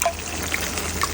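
Water poured into a cooking pan while cooking an egg dish with squash, a brief steady trickling splash heard alone, close and fairly loud.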